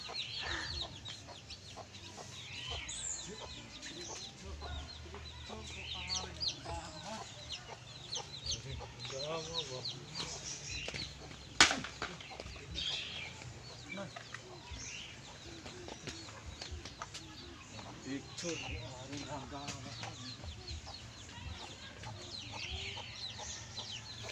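Chickens cluck and call steadily over a busy outdoor background, with many overlapping birds close by and one sharp sound partway through.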